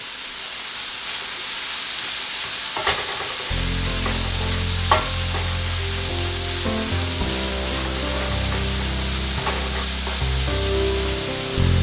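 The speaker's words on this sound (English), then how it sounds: "so here we are, sauteing everything" Leftover vegetables saute in a hot pan for an omelet and salad meal, a steady loud sizzle with scraping stirs and clatter after the first few seconds, no voices.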